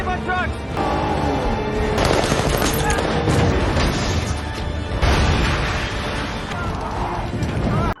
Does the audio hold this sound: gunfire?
yes